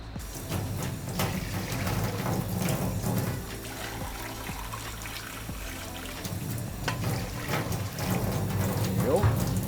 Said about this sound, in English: We're gonna add a liter of water.